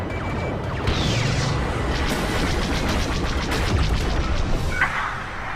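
Blaster fire aimed at TIE fighters in Star Wars Battlefront II, a rapid series of sharp zapping shots over a dense roaring space-battle backdrop, with a couple of brief whooshing streaks and no talk.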